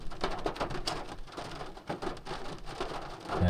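A rain shower patters steadily on surfaces and shelter at a fishing camp, a dense, continuous hiss of drops with occasional louder taps, fairly close, with no talk.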